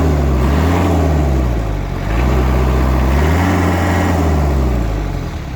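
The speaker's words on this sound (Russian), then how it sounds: "Набирает обороты двигатель вообще просто за секунду." A Kubota X-20 Japanese tractor engine runs loud and close, its droning note rising and falling twice as it revs up and settles back, with no voices over it.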